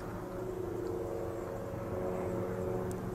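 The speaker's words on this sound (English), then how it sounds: "sounds like one of those little kit planes, those loud, annoying, slow-moving ones" A small, loud, slow-moving kit plane drones overhead as a steady propeller hum with a low engine buzz, holding constant throughout with faint outdoor background noise.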